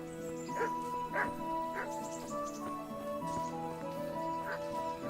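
A dog barks a few times in short, spaced yelps within the medieval world of Kingdom Come: Deliverance, moderately near over steady tonal background music, with a voice speaking at times.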